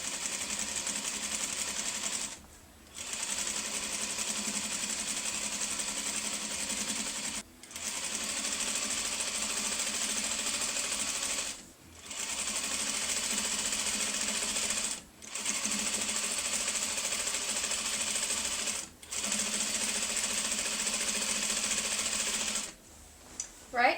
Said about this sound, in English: I am about to sew over a seam